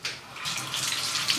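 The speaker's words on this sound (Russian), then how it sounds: "Каждую помидорку под струей воды и в банку." Tap water runs in a steady hissing stream over tomatoes being washed one by one before going into a jar, close by and with no voices.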